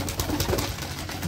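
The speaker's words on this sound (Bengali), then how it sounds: "তো লাঞ্চ টাইম চলতেছে আমার কবুতরের, মানে দুপুরের বেলা একটু খাবার দিয়ে দিলাম, তো সবাই খাচ্ছে" Several pet pigeons coo softly in low, rolling throaty murmurs while they eat their midday feed, close by, with light pecking and shuffling sounds between the calls.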